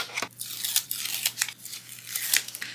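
Scissors trim a piece of card paper for a handmade flower shaker card, with several crisp, close snips and rustling in quick succession.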